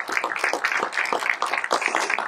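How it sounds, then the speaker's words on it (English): An audience claps in a dense, steady patter of many hands, close and fairly loud, with a voice faintly mixed in. "Can you hear the clapping, sir?"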